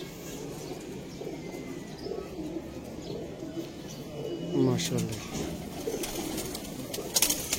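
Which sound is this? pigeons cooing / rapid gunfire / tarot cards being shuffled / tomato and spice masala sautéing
pigeons cooing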